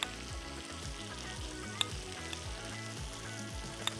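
Grilled chicken cheese burger cooking on a grill, giving a soft, steady sizzle and crackle with a few faint ticks over a low rhythmic background hum, no one talking.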